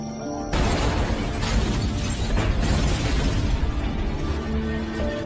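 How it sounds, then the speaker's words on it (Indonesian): A gas-filled house blows up in the 2007 action film Shooter, a sudden loud blast after a brief quiet lead-in, followed by sustained roaring, crackling debris and rumble that stays dense for several seconds. "ledakan pun terjadi."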